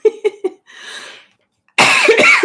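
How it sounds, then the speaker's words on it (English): A few quick coughs in a row, then a raspy breath, a pause, and a harsher burst of coughing, loud and close. "Sorry about the cough."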